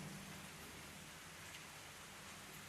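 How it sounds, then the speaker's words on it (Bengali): Steady rain falls outside during the monsoon, a faint, even hiss of drops with no talking. "দেখো বাইরে বৃষ্টি হচ্ছে, বৃষ্টির তো কোনো ঠিক নাই"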